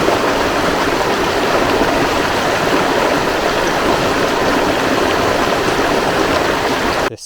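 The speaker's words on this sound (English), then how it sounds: "I'm going to call this a creek." A small creek flows beside a hiking trail, a loud, steady rushing babble that holds constant and close throughout, then cuts off abruptly at the very end.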